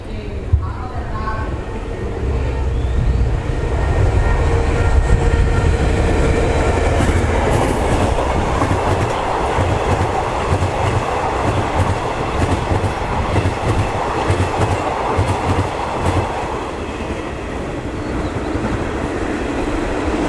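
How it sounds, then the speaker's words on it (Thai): A passenger train rumbles past up close through Ban Ma railway station in Thailand, wheels clattering rhythmically over the rails for a long stretch, with faint squeals and a voice talking over it. "ขบวนรถเที่ยวล่องหรือเที่ยวเข้ากรุงเทพอีกหนึ่งขบวน ผ่านในชานชลาที่สานะครับของสถานีบ้านม้า"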